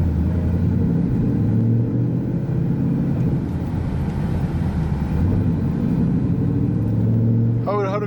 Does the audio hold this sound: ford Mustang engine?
yes